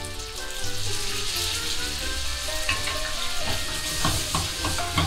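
Cooked spaghetti slides into a hot pan for carbonara, setting off a steady close sizzle, with clinks and scrapes of stirring throughout and no talking.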